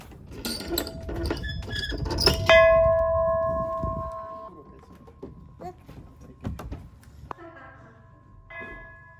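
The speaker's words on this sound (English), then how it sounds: "And here's the bell again." A schoolhouse bell at a pioneer village museum in Kissimmee, Florida, rings with a couple of clear metallic strikes whose tones hang and fade, amid clatter and voices talking nearby.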